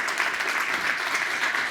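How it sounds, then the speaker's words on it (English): An audience applauds a scientist after a talk on brain cells, a dense, steady clatter of many hands clapping at moderate volume throughout. "Let's give Dr. Hoyer a round of applause."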